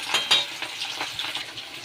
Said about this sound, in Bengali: এই যে ফুলকপিটা লাল লাল করে ভাজছি, পুরো কড়া করে ভাজা হবে।